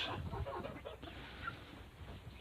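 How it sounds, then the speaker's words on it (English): Chickens, including silkies and young pullets, cluck softly and steadily in a farm pen, with a low continuous murmur of fowl sounds and no speech. "And these here are our original chicks that we got in the springtime."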